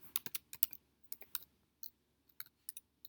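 Sharp, separate keystrokes of numbers being typed on a computer keyboard, in short irregular clusters with quiet gaps, close and alone.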